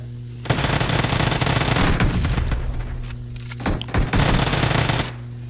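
An Uzi fires in the mobile battle-royale game PUBG Mobile. Two long, loud rapid-fire bursts sound up close, separated by a brief pause and a few scattered shots, then stop abruptly.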